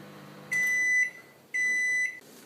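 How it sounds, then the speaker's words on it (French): A microwave oven melting butter and chocolate for a chestnut chocolate Yule log gives two clear, steady electronic beeps about a second apart over a low, faint running hum, with no talking. "vous allez tout faire fondre au micro-ondes pendant 2 fois 30 secondes"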